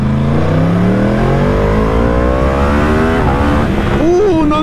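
A Yamaha R1 sport motorcycle engine of about 200 horsepower revs hard and close, its loud note climbing steadily in pitch, then briefly dipping and whining again near the end.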